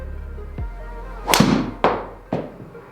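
A golf driver strikes a ball with a sharp, close crack. A few fainter thumps follow within the next second or so, and there is no speech.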